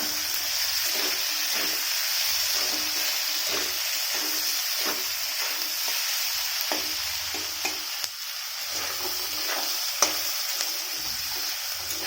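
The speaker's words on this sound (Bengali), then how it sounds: "আমার আলু আর সসেজগুলো ভাজা হয়ে গেছে।" Potatoes and sausages fry in a pan with a continuous soft hiss, scattered spoon scrapes and occasional sharper pops, heard close and alone.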